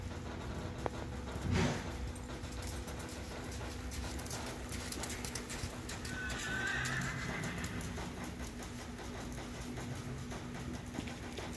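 Horses walking in a youth western pleasure class arena, soft distant hoof sounds with a brief whinny-like burst and faint ambient noise, no talking.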